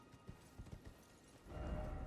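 Horse hooves clip-clop in Elden Ring, a run of quick, fairly soft hoofbeats in the first part, then a louder low rumble takes over at the end.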